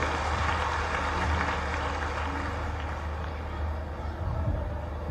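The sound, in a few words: audience applause welcoming Mohan Yadav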